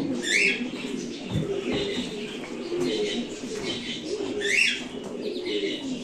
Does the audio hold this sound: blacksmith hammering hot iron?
no